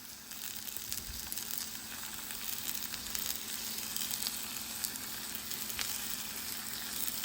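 Beef patties with apple, red onion, nutmeg and cinnamon sizzle quietly in a pan, a soft continuous frying hiss with occasional small pops and no talking.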